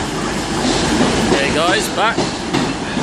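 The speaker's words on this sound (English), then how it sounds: "Sneaky little train came into the picture there, 150-233." A Class 150 diesel multiple unit pulls into Exeter St David's station, a steady rumble with brief squealing wheel tones midway, heard close and loud while someone speaks briefly over it.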